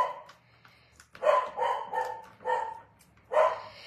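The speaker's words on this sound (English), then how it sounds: "now she's going to bark" A dog barks indoors, answering a neighbour's dog outside, with four separate loud barks coming in an irregular rhythm close by and no one talking.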